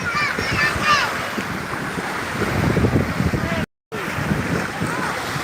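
Waves on Padongko Beach in Barru, a continuous rolling rush of surf with wind buffeting the microphone, close and fairly loud throughout, briefly interrupted by a moment of silence.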